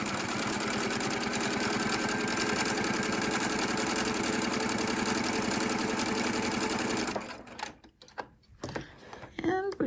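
A sewing machine stitches a pintuck along a folded fabric edge, running steadily with a fast, even mechanical whir for several seconds before stopping, leaving a few faint handling clicks and bumps.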